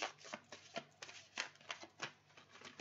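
Tarot cards handled and shuffled, a quick series of soft papery riffles and flicks, faint and close, about a dozen short strokes in an irregular rhythm.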